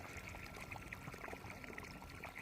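Filtered water pours steadily from a pipe at a small riverside filtration setup, a continuous close splashing stream with no breaks.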